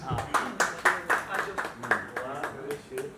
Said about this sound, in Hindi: प्रवेश के लिए तालियां प्लीज।